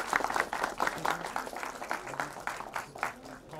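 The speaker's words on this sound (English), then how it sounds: "a big round of applause for them," An audience at a Runway 34 film promotion event claps in a short burst of dense, ragged applause, close and fairly loud, with a voice briefly audible over it.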